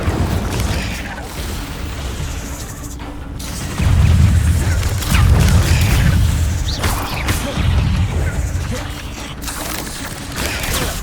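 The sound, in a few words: spell-casting combat effects in Hogwarts Legacy video game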